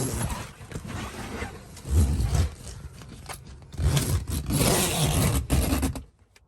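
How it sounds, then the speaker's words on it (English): A soft full-cab enclosure door on a 2023 Massimo T Boss 550 UTV being zipped shut from inside, with several close, rasping zipper pulls in uneven strokes and no talking. "So once you're inside the machine, all you do is zip it up."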